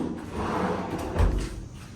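Storage closet doors and drawers in a hotel room being opened and shut, heard as soft sliding rumbles and a dull thud partway through, quiet and close, with no talking.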